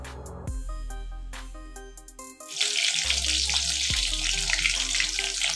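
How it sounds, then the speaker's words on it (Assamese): Ash gourd fritters fry in hot oil, a strong steady sizzle rising partway through and continuing close and loud, with some clattering handling sounds before it and no talk. "ৰঙচুৱাকৈ মই ফ্ৰাই কৰি ল'ম এইখিনি।"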